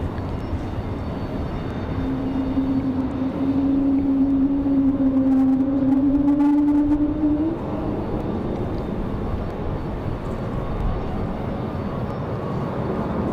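An American Airlines plane departs Raleigh-Durham for DFW, its engine roar building as a steady broadband rumble with a rising whine that peaks for a few seconds mid-clip before easing back into a distant drone.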